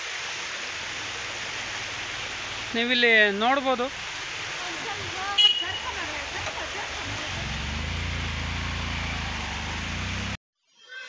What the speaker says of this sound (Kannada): ಇದು ಗಂಗಾವಳಿ ನದಿಯ ಉಪನದಿ, ಗಂಗಾವಳಿ ನದಿಯನ್ನು ಸೇರುವಂತಹ ಒಂದು ಕಿರು ಹಳ್ಳ.